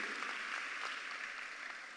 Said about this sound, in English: We want to give you a big round of applause for all that you do